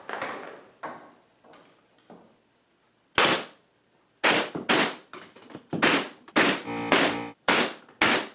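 A pneumatic brad nailer fires into a wooden work table in a home workshop. There are about eight sharp, loud pops in quick bursts after a few fainter knocks and taps.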